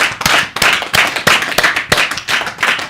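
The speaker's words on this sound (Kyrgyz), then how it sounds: "Кол чабалар болсун." A television studio audience claps in loud, close unison, with sharp slaps landing in a steady rhythm of roughly three per second.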